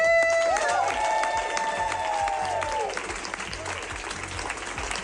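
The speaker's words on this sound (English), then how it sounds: "our first ever live applause" A small live audience applauds at the close of a teaching recording, with cheering and whoops over the clapping; a sustained whistle-like tone glides through the first three seconds, and the applause carries on steadily to the end.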